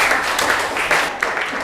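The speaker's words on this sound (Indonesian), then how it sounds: "tepuk tangan untuk kita semua" Students in a classroom applaud themselves in a brief, dense round of clapping that fills the short moment at an even level.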